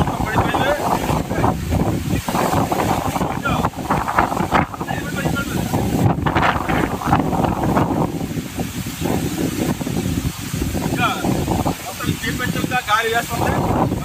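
Strong gusting wind buffets the microphone outdoors on a village road near Hospet during a storm, a continuous loud rushing roar with people talking over it throughout.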